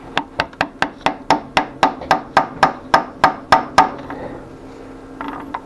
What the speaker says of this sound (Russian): Сейчас молоточком аккуратненько подобью. Загоню подшипник.